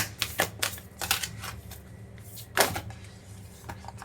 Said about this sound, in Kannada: ಇವಾಗ ಮೂರು ಕಾರ್ಡ್ ಇಡೋಣ